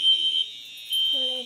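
A basement fire alarm system being tested gives off a steady, piercing electronic tone that holds throughout, with voices talking underneath it.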